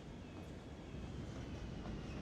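Trains roll through a city in Cities Skylines on PlayStation 4, a steady low rumble with faint rail clatter that stays quiet and distant without any talk.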